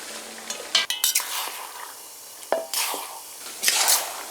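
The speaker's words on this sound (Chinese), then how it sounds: "再多炒一会儿，把黄豆给炒入味儿" Soybeans stirred with seasonings and chili sauce in a wok for beef soybean paste, with a spatula clinking and scraping against the metal in scattered bursts between quieter stretches.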